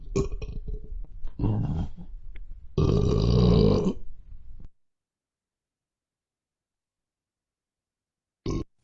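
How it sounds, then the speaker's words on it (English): A long, loud, gravelly burp rolls out in two heavy bursts over about four seconds, then silence, with a short grunt-like burst near the end. "I hate you and your burp"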